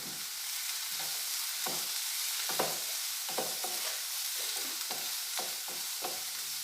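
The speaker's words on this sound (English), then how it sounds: "Saute it." Roughly chopped onions sautéing with black peppercorns in a pan for egg masala curry, a steady sizzle broken by regular stirring scrapes, close and alone with no voices.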